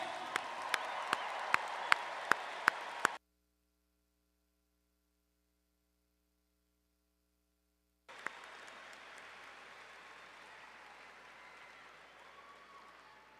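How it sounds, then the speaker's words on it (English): Commencement audience applauding the graduating class of 2026 at a business school ceremony, a steady wash of many hands with a few louder claps up front, cut by several seconds of silence before the applause resumes, softer and more distant. "How about a round of applause for the class of 2026?"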